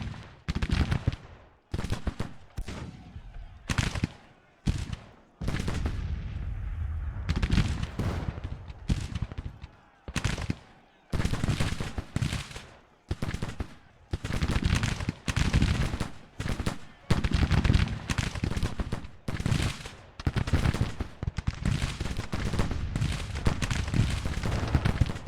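Cannon and musket fire rattle through a Grand Tactician: The Civil War battle, with dense volleys and sharp reports coming in rapid, overlapping bursts that continue almost without pause.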